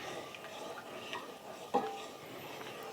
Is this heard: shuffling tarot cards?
no